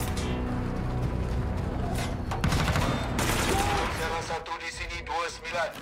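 Dense gunfire and automatic bursts crackle through an enemy assault in an action film as a team rushes a hostage into a Panzer armored vehicle, with shifting loud blasts under a busy music-and-effects mix and some voices.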